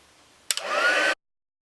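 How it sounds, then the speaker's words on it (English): A heat tool for setting embossing powder on a handmade card gives a short, loud whirring blast of under a second, switched on and abruptly off. "You're ready to use your heat tool to set the embossing powder"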